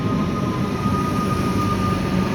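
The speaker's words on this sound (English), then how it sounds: "We've got this Comenge train arriving, set 667M." Comenge suburban train, set 667M, arriving at Essendon station: a loud, continuous rumbling roar of wheels and motors with a faint steady whine, close by and without speech.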